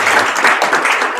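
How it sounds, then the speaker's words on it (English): An audience in an info session room claps for a panel, with dense, steady applause that stays close and loud for the whole brief stretch. "can I get a round of applause for our panel"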